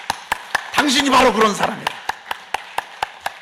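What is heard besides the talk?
congregation applauding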